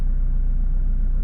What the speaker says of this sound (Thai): ตอนนี้เครื่องยนต์ติดแล้วนะครับ